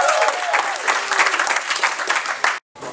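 Audience at a Black History youth program breaking into steady, dense applause from many hands, loud and close, cutting off abruptly near the end.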